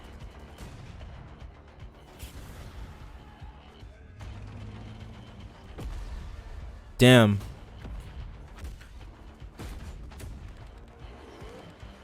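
A single loud explosion bursts out amid distant gunfire and battle ambience in the video game Battlefield 2042, with people talking over the action.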